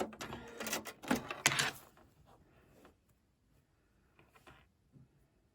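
A domestic sewing machine stitches a seam on a Japanese quilt, a loud rapid burst of mechanical clatter for about two seconds, then a few faint, sparse clicks and taps as the work is adjusted.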